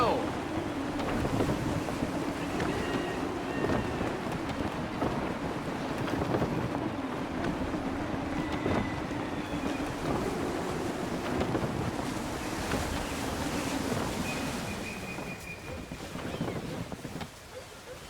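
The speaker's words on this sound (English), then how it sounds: "Gusty winds can be difficult to manage." Gusty wind and rolling waves around a sailing ship in Assassin's Creed III, a continuous loud rush of wind and surf with creaking undertones, easing slightly toward the end.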